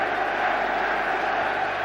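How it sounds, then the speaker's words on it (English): Wembley crowd at the 1966 World Cup final between England and West Germany, a dense, steady roar of many voices heard from within the stands, continuous and loud with no single voice standing out. "The crowd seemed to sense it."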